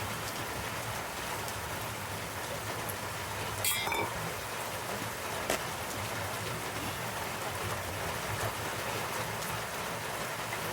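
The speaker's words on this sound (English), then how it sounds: "It's really rainy here." Steady rain falls outdoors at a bush cooking site, a dense, even hiss of drops on surfaces that continues unbroken throughout, faint and ambient with no voices.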